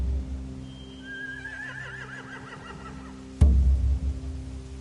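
Horses neigh in The Walking Dead video game, a long wavering whinny rising over a steady low hum, followed by a sudden loud thud and rumbling clatter near the end.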